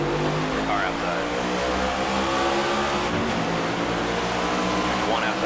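Race car engines roaring and accelerating at the green flag in NASCAR 25, a dense, loud, continuous engine drone with pitch sweeps as cars speed up, under radio spotter talk.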